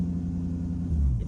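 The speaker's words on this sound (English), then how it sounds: "I'm going to keep it at 3k revs for a bit" A car engine held around 3000 revs runs as a low close rumble, wavering and sagging as if close to stalling.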